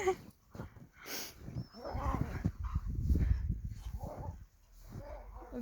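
Belgian Shepherd dogs bark and whimper outdoors in deep snow amid soft rustling and trampling, with a few brief vocal sounds between, moderately loud and close.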